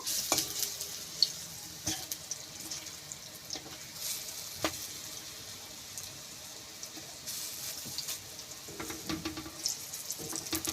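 Lentil fritters (dal bora) frying in oil, a steady broadband sizzle with occasional sharp crackles and utensil clinks as pieces are turned, continuous and fairly close, with no voices.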